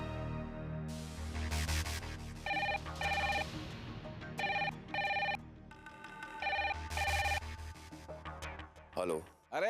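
A telephone rings in repeated bursts, loud and close, with a steady electronic bell tone and short pauses between rings, under a low music or background bed.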